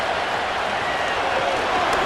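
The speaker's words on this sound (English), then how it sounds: "Crowd noise rises." A dense, steady roar of a stadium crowd in a Madden NFL 25 football game simulation between the Tennessee Titans and Miami Dolphins, loud and continuous, swelling slightly toward a big third-down play.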